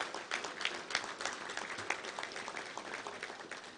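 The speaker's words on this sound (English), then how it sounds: "Let's give a big round of applause for them" A round of applause from the crowd at a Little Rock Touchdown Club luncheon, a soft, distant and even spatter of many hands clapping with no voices over it.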